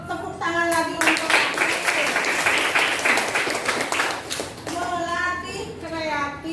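A class of children claps hands in a dense burst of applause that swells and then fades, with children's voices and an adult speaking at the start and end.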